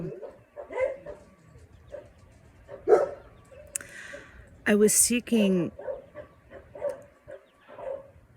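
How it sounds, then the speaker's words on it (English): Dogs bark in a short burst of loud, close yelps partway through, with a person talking before and after. "Dogs."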